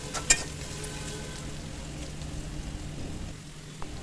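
Chopped onions sizzling in hot soybean oil in a wok, a steady close frying hiss with a brief clatter near the start.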